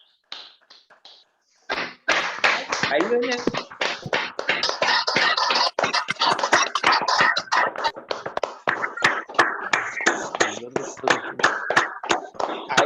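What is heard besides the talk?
clapping over unmuted microphone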